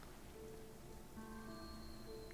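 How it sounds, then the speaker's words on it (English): Rain in the game Spiritfarer, a soft steady patter on surfaces with faint tonal game music layered over it, quiet and continuous. "It's raining here too."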